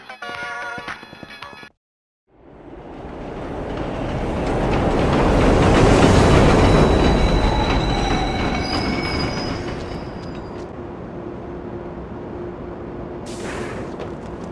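Trains roll through Pelham Train Yard in The Warriors video game, a loud rumbling pass that builds to a peak and slowly fades, with squealing wheels and rattling cars after a brief burst of other game sound.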